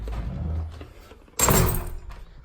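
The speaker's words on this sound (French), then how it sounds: "je ferme la porte, je ferme la porte" A door being shut indoors, heard as a sudden close, loud thump and rattle midway through a low rumbling background, fading out over the following second with no talking.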